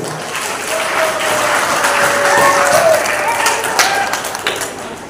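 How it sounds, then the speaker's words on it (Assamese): An audience at a college quiz programme at Tihu College gives loud, sustained applause. The clapping swells to a dense peak midway, then gradually thins and fades. "টিহু কুইজ ফৰামৰ সমূহ সদস্যৰ কাৰণে এটা ডাঙৰ হাত চাপৰি হ'ব লাগে।"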